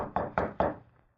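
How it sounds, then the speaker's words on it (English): Three firm knocks on an office door in an old-time radio drama, evenly spaced and close, fading into a short decay with no voices. "there was a knock on the door"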